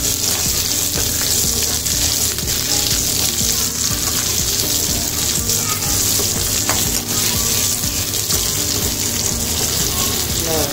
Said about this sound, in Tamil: இந்த வெங்காயம் காஞ்ச மிளகா கருவேப்பிலை எல்லாம் நல்லா பொரிஞ்சிடுச்சு